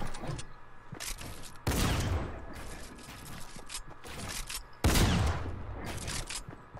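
Gunfire in a one-on-one video game match sounds as two loud, sudden crashing blasts with rough noisy tails, over a steady background hum.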